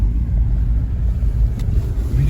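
A car rolls slowly over an uneven sand mine road, a steady low rumble and muffled engine drone with wind buffeting the microphone, close and continuous throughout.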